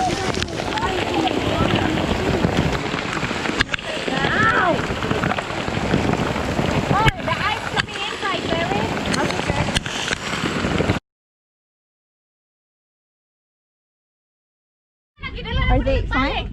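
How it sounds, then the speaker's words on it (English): Golf ball sized hail pelts a campsite on a hillside at Patagonia Lake, a dense, loud, continuous clatter of impacts for about eleven seconds, then a gap of silence before the pounding resumes, with people exclaiming over it. "we're up on the side of Patagonia with golf ball sized hail"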